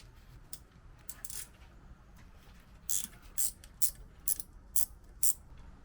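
A ratchet with a 1/2 inch socket works the distributor loose on a 1968 Ford Mustang engine. Faint background gives way to a series of sharp, bright clicking bursts in uneven rhythm.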